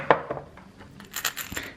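Loose coins, some of them foreign, clink and jingle together in a few sharp metallic taps and chinks, close and fairly quiet, with no talking.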